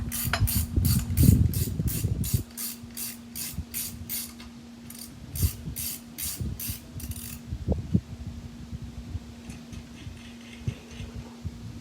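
Bolt with paint in its threads being turned during a ProPride hitch install, a rapid series of ratchet clicks in bursts with metallic clunks and scrapes between them, up close.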